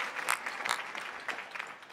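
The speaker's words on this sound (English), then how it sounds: "Big round of applause for them." Brief, fairly quiet applause from an audience at an evening event, a handful of distinct claps rising over a soft patter before tapering off.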